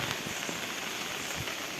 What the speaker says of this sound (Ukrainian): Дивіться, який дощ ліє.